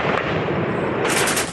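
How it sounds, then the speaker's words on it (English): Gunfire at dawn as Taliban fighters assault a US and Afghan base in Nuristan Province, a dense hail of rapid shots cracking continuously, loud and close, rising sharply near the end. "And then, as dawn breaks, the assault begins with a hail of gunfire."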